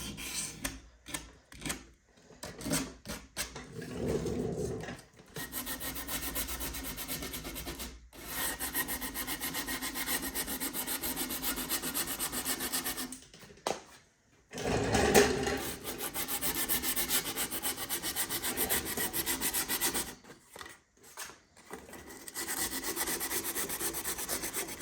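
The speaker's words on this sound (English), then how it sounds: "just let the sandpaper do its job" Hand sanding of an antique wood buffet with sandpaper: long continuous rasping strokes of paper rubbing across wood, close and fairly loud, broken by short pauses between passes.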